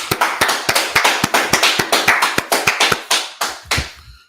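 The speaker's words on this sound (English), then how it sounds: "Let's clap it up." Loud, close hand claps from an audience at a street gathering land in an even, rhythmic beat, one sharp clap after another, slowing slightly before stopping.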